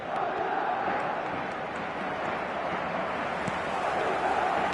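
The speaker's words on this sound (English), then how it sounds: "the crowd level has gone up a notch or 10" A stadium crowd in the eFootball video game roars after a goal, a dense, steady wall of cheering and shouting that holds at even loudness throughout.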